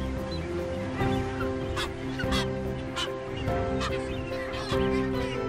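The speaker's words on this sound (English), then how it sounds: "A breeding colony is seldom, if ever, quiet, as the incessant high-pitched calls sound out" A breeding colony of sooty terns calls incessantly, with repeated short, high-pitched cries from many birds rising over a steady musical background.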